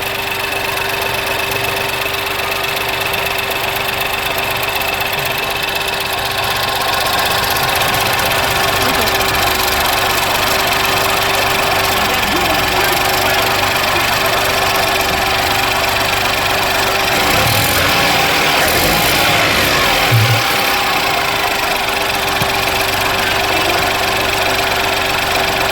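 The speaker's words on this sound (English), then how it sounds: "So I'm gonna start the vehicle up. Now want to hit the gas a little bit." Ford 1.0 EcoBoost three-cylinder engine idling steadily up close, with a slight rise in engine sound partway through as the throttle is blipped; the low oil pressure fault is suspected to involve the turbo.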